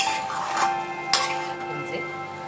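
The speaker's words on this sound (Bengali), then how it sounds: "এবার আমি এই ঢাকাটা খুলবো" Lid lifted off a cooking pot of Bengali chalkumro with coconut, a couple of short metallic clinks over a faint steady sizzle, close and quiet.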